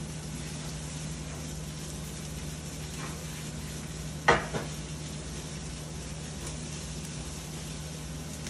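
Chorizo and eggs cook in a pan for a breakfast burrito, giving a low, even sizzle with one sharp utensil knock against the pan midway and soft stirring sounds.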